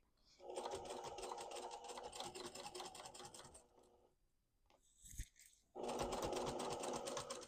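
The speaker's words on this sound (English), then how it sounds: "I'm just going to sew right down that line, moving my pins out of the way as I go" Sewing machine stitching along a chalk line across elastic on a quilted fabric cord organizer, a steady close, loud mechanical whir in two long runs separated by a brief pause with a few small clicks.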